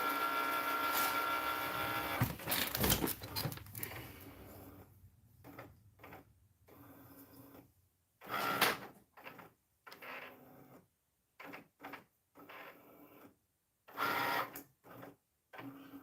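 A printer runs while printing a design for tumblers in a craft studio, a loud mechanical whir at first, then intermittent short bursts of carriage movement separated by silences.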